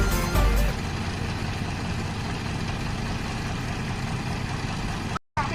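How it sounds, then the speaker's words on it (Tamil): A tipper truck's engine idles with a steady, heavy rumble while the truck reverses slowly, the drone continuous and close apart from a brief dropout near the end. "டிப்பர் வந்து மெதுவா பின்னாடி வரப்போகுது"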